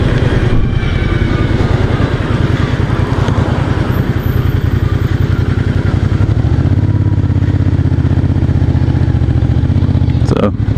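A 1996 Honda Magna 250cc motorcycle rides at low speed through city streets, its engine a loud, steady close throb with pulsing rumble, while wind buffets the microphone and someone talks over it.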